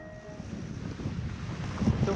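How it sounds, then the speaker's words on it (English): Wind roaring across the microphone aboard a sailboat heading out of a bay into a headwind, a steady broadband rush that grows slightly louder toward the end, with no voices. "The wind is coming from front."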